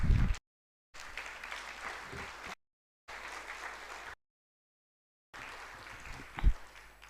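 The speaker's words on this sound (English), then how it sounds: "Let's clap for them." An audience at a strategy launch and storytelling event claps for a group of girls, giving faint, moderate applause broken by several dropouts.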